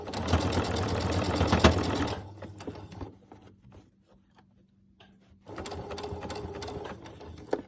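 A sewing machine stitches an Olson fabric face mask in two bursts of steady rapid running, near and loud, with a quiet pause of faint handling noises between them.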